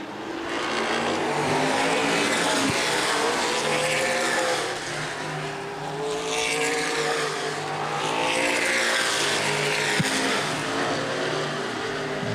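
Loud stock car engines roar past in waves at Angola Motorsport Speedway, rising and falling as cars sweep by one after another during a feature race, with no talking.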